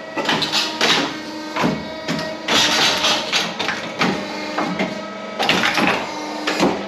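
A shoe production machine working in a Turkish shoe factory, loud and close, cycling through repeated mechanical pulses and thumps with a whirring drone between them.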